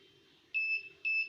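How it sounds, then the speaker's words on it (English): Two short, high-pitched electronic beeps from a WiFi smart switch sound close together, clear against a quiet low hum. "let me just first check the beep with my app"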